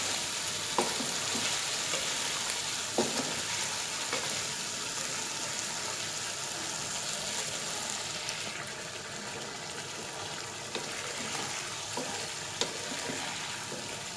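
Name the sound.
chicken being fried and stirred on high heat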